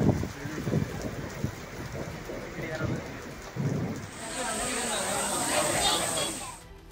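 Heavy monsoon rain pours down in Karnataka, a steady broadband hiss that swells and thickens in the second half, with indistinct voices audible over the downpour early on.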